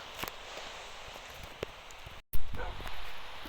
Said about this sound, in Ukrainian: О, не будемо, бо тут є дощ, щоб не промок.